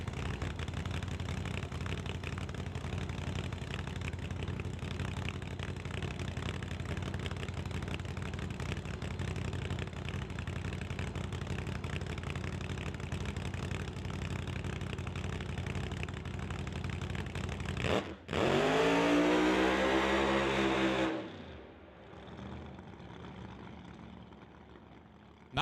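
A drag race car roars down the racetrack at an NHRA Summit ET series event, a steady loud engine drone lasting many seconds, then a sudden surging pass with a rising, then falling engine note before fading away.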